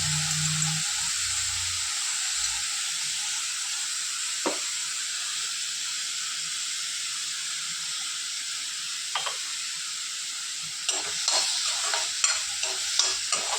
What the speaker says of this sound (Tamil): நல்லா வதங்கட்டுங்க பாருங்க வெங்காயம் நல்லா கொஞ்சம் வதங்கிடுச்சு